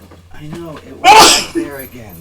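A single loud, sharp sneeze bursts out midway, with someone talking just before and after it.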